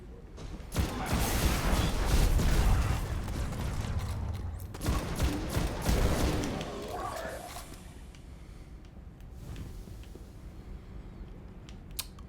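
Rapid bursts of gunfire in the Destiny Nightfall Cerberus Vae III mission, loud volleys early on, then scattered single shots fading toward the end, with talk over the action.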